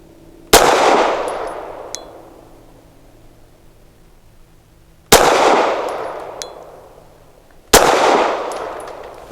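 Three loud, close shots from a Taurus TS9 shotgun firing SMB Tactical 140 grain subsonic rounds, each a sharp blast with a long ringing decay, spaced several seconds apart, with faint metallic clinks after the first.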